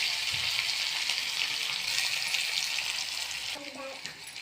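Onion and coriander sizzle steadily in hot oil in a pan for a vegetable dish, a dense continuous frying hiss that drops off near the end with a few clinks.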